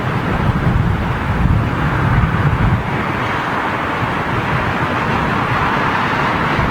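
Strong gusting wind at London Heathrow Airport, a loud broadband roar buffeting the microphone, heavier at first and then settling into a steady rush.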